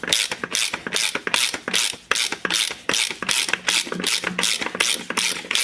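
A ratchet loosens the center bolt on a seized Alfa Romeo 156 2.4 JTD 10v diesel engine during teardown, making loud, close, rapid clicking bursts that repeat steadily without any speech.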